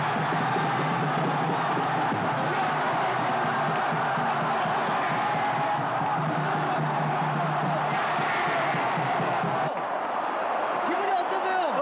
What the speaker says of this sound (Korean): 일제히 환호가 터져나왔다